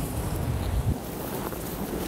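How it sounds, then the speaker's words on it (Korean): Strong, steady wind roars and buffets the microphone on a snowy, rime-frosted mountain summit beneath a wind turbine, a continuous low rumbling gust with no speech. "바람이 엄청 세요."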